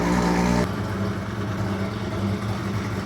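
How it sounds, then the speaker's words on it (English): A carbureted car with 50 mm Solex carburetors fires up cold, a loud burst of engine noise at the start that drops into a rough, steady, close-up idle with no voices. "Carburetors, cold startup, 50 mil Solex on this one."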